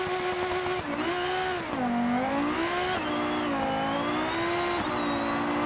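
In the BeamNG driving game, a car launches hard from a standstill, its loud engine note climbing in pitch, dropping briefly at each gear change, then rising again. The revving wails on its own, with no talk.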